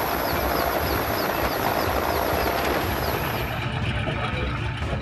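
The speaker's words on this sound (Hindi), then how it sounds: "सेना का हेलीकॉप्टर जान बचाने के लिए पहुंचा है" An army rescue helicopter flies over flood-submerged houses after heavy rain, its rotor and engine a loud, steady drone filling the air throughout.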